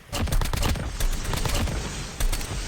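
Rapid automatic video game gunfire from a weapon loaded with thermite rounds, dense loud bursts of shots with a brief gap before a final burst.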